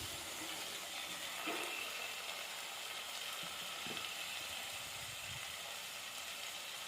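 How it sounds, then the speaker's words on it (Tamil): Masala sautéing in oil in a pan for egg curry, a steady close hiss and sizzle with a few faint scrapes, no voices. "பச்சை வாசனை போகிற வரைக்கும் நல்லா வதக்கிக்குவோம்."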